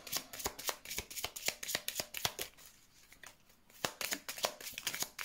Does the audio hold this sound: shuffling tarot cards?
yes